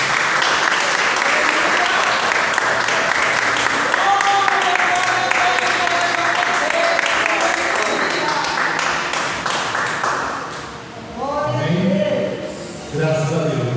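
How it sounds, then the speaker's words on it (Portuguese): Church congregation at a healing and deliverance service clapping loudly together, sustained rhythmic applause with voices mixed in, fading briefly before louder vocal sounds near the end. "E as palmas ao Senhor Jesus."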